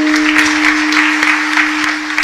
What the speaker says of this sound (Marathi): तुम्ही टाळ्या सुद्धा माझ्यावर उपकार केल्यासारख्या वाजवताय